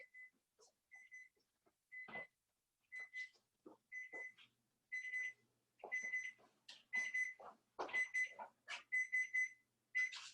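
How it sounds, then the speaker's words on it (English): A kitchen timer rings while muffins bake, sounding as a string of short, high electronic beeps in irregular bursts over about ten seconds, with a few softer clicks and rustles between them. "I hear the timer."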